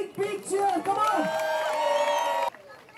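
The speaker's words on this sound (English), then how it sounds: "let's give them a big, big cheer" A live event crowd cheering for a team on stage at a charity fundraiser in Mumbai, loud whoops and shouts rising together with some clapping, then cutting off abruptly.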